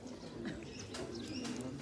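Black pigeons coo softly nearby, low throaty calls repeating over a faint background hum.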